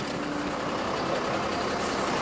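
A used Prima wing-body truck with a ZF automatic gearbox and 8.6 m body pulls slowly away, its engine a steady, close, broadband rumble with no talk over it.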